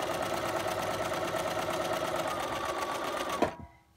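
A sewing machine runs in a fast, steady stitching rattle as quilt strips are sewn through, stopping abruptly near the end with a brief thump.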